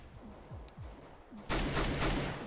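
Auto sniper rifle fire in CSGO: a rapid burst of loud, sharp gunshots fills the last second, preceded by quieter game sounds and thuds.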